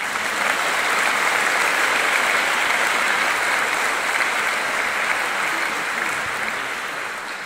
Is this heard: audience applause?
yes